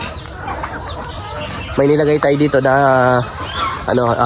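Mixed-breed chickens, including Rhode Island, cluck and squawk loudly at close range, several drawn-out calls overlapping, over a background of farmyard noise.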